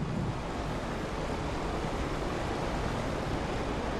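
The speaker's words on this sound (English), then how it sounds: "That's all it took to drain the water from the halls." Water rushes as it drains from flooded halls after a lever is pulled in a Resident Evil video game, a loud, steady broadband roar that runs unbroken throughout.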